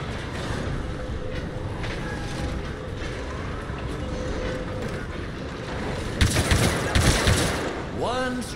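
Gunfire in the video game Star Wars Battlefront II during a combat mission, a burst of rapid shots erupting late over a steady rumbling background, with a brief voice near the end.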